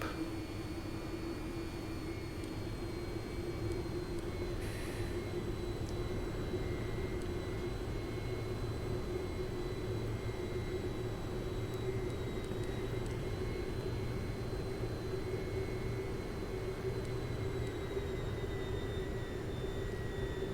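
Aircraft taking off in the VTOL VR flight game, a steady jet engine roar with a droning hum, constant and even throughout with no voices.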